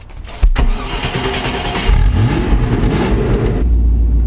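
An engine cranks and catches, then sputters and revs up into a loud, rough idle close by.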